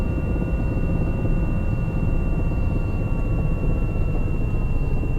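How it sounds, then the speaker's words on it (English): A simulated helicopter engine in X-Plane 11 gives a loud, steady droning whine with a thin constant tone on top, holding level throughout with no audible spin-down, and no voices. "think I killed the engine."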